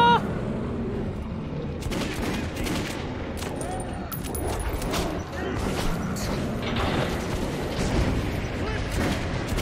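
Rapid gunfire bursts from the video game Metro rattle through a dense, continuous mix of in-game combat noise and mechanical clatter, loud and busy across the whole stretch, with voices mixed in.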